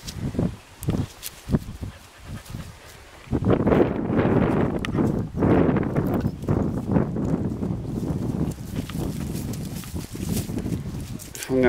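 Hooves clip-clop unevenly on the ground over a steady outdoor rustle, with a voice speaking close by.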